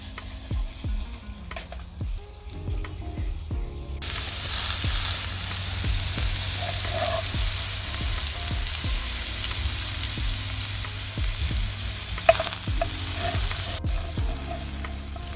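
Vegetables and seasonings fry in a hot pan with a steady, close sizzle, punctuated by occasional stirring clinks, brightening noticeably after the first few seconds and continuing without speech.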